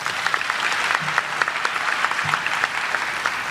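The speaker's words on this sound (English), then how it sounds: "Please give our mothers a hand of applause." University commencement crowd applauding mothers, a steady bed of many hands clapping at moderate volume, sustained throughout with a few faint voices underneath.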